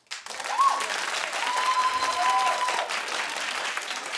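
A studio audience bursts into applause and keeps clapping steadily at close range, loud and sustained without talk.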